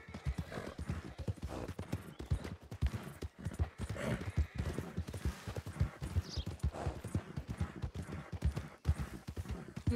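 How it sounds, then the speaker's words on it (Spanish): Horse hooves clip-clop steadily through a role-play video game ride, loud and close with a brief whinny, a continuous rhythmic trot filling the whole stretch. "montar tu caballo"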